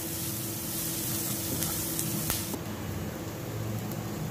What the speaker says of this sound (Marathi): 4 मिनिटं कांदा तेलात परतून शिजवायचा आहे।